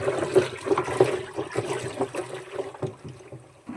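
Organic farm slurry mixed with jaggery and EM solution is stirred by hand, giving a continuous wet sloshing and gurgling of thick liquid, close and fairly loud, with irregular splashy surges throughout.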